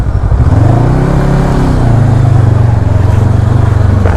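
A Honda NX500 motorcycle rides along a rough road, its engine droning loud and close with a steady low throb and a slight pitch rise and fall throughout.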